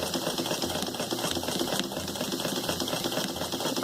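A sewing machine stitches a shirt seam along the collar edge, its needle chattering in a fast steady mechanical rhythm with a low motor hum, loud and close and running without pause.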